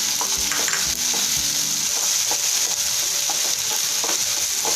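Chopped onions and tomatoes frying in a pan for veggie rose momo stuffing, a constant close sizzle broken by repeated stirring scrapes and taps of a utensil.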